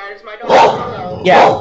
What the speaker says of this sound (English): And that is my dog.